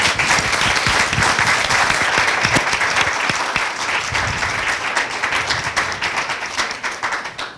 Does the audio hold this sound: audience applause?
yes